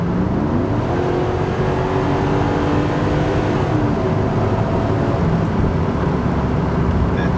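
A 1992 Mercedes R129 500SL with a new transmission accelerates under kickdown, heard from inside as a loud, steady engine roar. The pitch climbs gradually, then levels off into sustained cruising.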